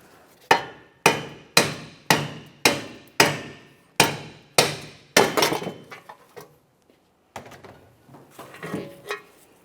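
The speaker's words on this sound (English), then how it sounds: "I have my hammer. I'm going to start tapping on this" A hammer taps a stuck rear wheel bearing and backing plate out of the steering knuckle of a 2014-2018 Mazda 3, with about nine sharp, evenly spaced metallic blows up close, then softer scattered clanks.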